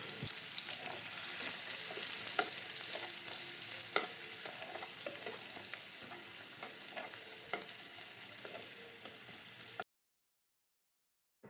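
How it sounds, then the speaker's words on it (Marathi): Onion frying in hot oil with cumin for a Veg Kolhapuri, a steady crackling sizzle with scattered spatula scrapes and clicks as it is stirred, loud and close for about ten seconds before cutting to silence. "आता इथे छान असं कांदा मी भाजून घेते"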